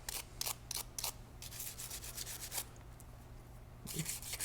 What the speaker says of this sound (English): we just want to make sure these notches on the bottom are free from buildup and debris. We can brush those out.